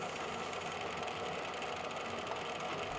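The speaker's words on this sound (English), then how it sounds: "I'll use this Live Tools carbide end mill again," A carbide end mill cutting a hard, blackened steel lead screw nut at a steady feed, producing a continuous close, dense machining whine and hum with no pauses.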